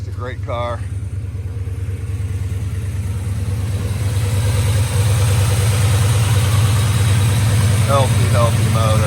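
A 1968 Chevelle SS 396 V8 idles steadily and close by, a deep continuous rumble that stays even throughout, with brief voices at the start and end.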